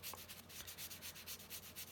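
Rhythmic back-and-forth rasping of sandpaper on a tiny plastic part from a 1/144 High Grade model kit, held by hand; quiet, steady strokes roughly four per second with no talking.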